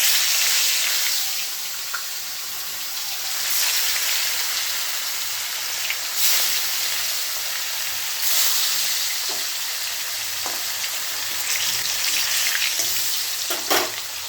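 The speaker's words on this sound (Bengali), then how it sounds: "তেল গরম হয়ে গেছে, মাছটা এবার দিয়ে দিই।" Fish frying in hot oil in a home kitchen gives a loud, steady hiss and crackle throughout, with a few sharper pops and spits near the end and no talking.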